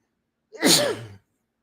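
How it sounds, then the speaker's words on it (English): A single sharp, close sneeze bursts out, with a quick inhale leading into a loud explosive release. "It's usually 3 sneezes when I sneeze."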